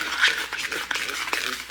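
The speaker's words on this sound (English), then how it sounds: "Give it a little mix." A spoon stirs a no-bake cookie mixture in a bowl, giving close, wet scraping and thick slurping strokes in a loose rhythm, fairly loud with no talking.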